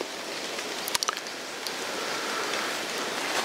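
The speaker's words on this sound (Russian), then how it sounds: "дождь не прекращается" Steady rain hisses softly and evenly throughout, with a few brief crackling drips or rustles early on.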